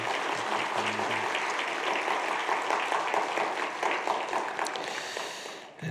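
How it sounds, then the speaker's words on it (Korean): A church congregation gives two pastors a sustained round of thankful applause, thick and even clapping that holds for several seconds before tapering off near the end. "우리 서은성 목사님 또 홍경환 목사님께 감사의 박수를 다시 한번 드리겠습니다"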